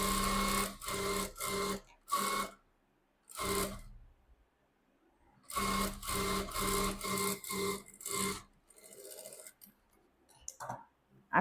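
A sewing machine stitches a blouse's back-neck design in several short, loud, rapid bursts separated by pauses, then gives a few softer clicks and handling noises near the end.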